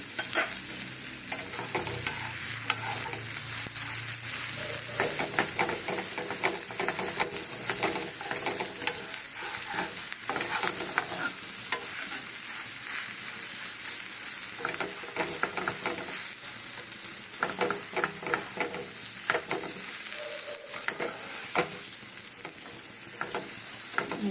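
A vegetable-stuffed sandwich fries in oil in a pan, with a steady, close sizzle that holds throughout, broken by small scraping and pressing clicks as it is spread and pressed down; no talking.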